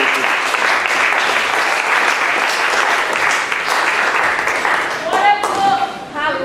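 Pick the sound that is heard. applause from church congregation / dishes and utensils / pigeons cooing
applause from church congregation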